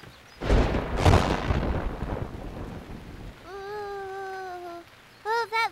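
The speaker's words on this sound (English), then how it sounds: "that lightning came really close, didn't it, Moo Moo?" Cartoon thunder from close lightning: a sudden loud crack and heavy rolling rumble with rain noise that fades after a few seconds, followed by a drawn-out animated character vocalization and short cartoon chirps.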